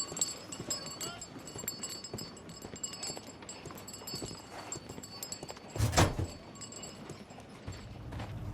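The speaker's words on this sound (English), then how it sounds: "Horse of Pedro Alvarado." Horse hooves clip-clop over a street in the game Sherlock Holmes: The Devil's Daughter, a soft irregular clatter beneath quiet ambient game sounds, with a brief louder thump near the end.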